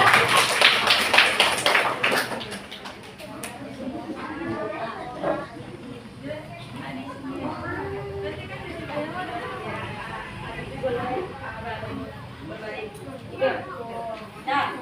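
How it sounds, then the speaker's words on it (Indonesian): Elementary schoolchildren burst into quick applause for a classmate, a bright flurry of clapping for about two seconds, after which adult talk continues over faint background noise. "mau minta kasih aplaus untuk Habibi, nak tepuk tangan"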